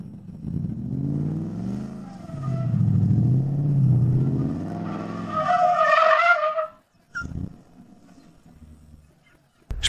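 A modified Lamborghini Huracan on a track spins its wheels, loud engine revving and tyre squeal rising and wavering for several seconds, then cutting off, followed by quieter engine sounds as people talk faintly around it.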